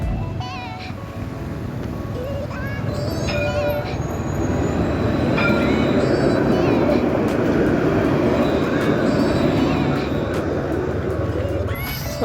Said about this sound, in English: And here comes the tram.